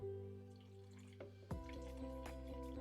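More wine is poured into a glass, a faint trickle and drip against a quiet steady hum, with a soft clink partway through.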